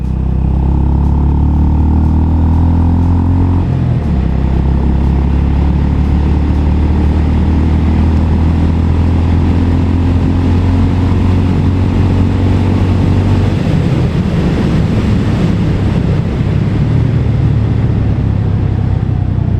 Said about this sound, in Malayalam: എക്സോസ്റ്റ് നോട്ട് അടിപൊളിയാണ്. നമ്മൾ POVയിൽ കേൾക്കുമ്പോൾ നല്ല രസമാണ് ഇതിൻ്റെ എക്സോസ്റ്റ് നോട്ട്.